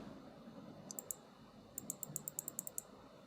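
A computer mouse clicks in a web browser, first a couple of clicks and then a rapid run of about eight crisp, faint clicks over steady room hiss.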